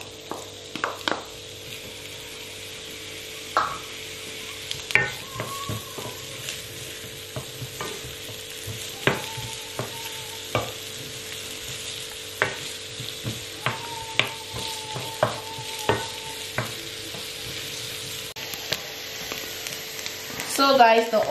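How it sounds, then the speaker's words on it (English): Chopped onion and garlic fry in a pan with a steady sizzle, punctuated by repeated spatula scrapes and knocks against the pan at an uneven rhythm, close and fairly loud. "now we're going to be adding some chopped onion"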